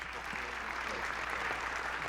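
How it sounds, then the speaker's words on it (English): Conference audience applauding at a blockchain event, a steady dense wash of clapping heard from within the hall, continuous and even throughout. "Everyone give her a huge round of applause."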